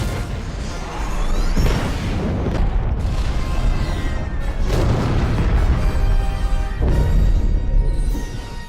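A planet exploding from within in the Star Wars: The Force Awakens film, with deep rumbling booms and blasts layered over sweeping whooshes, loud and sustained throughout with a few heavier bursts.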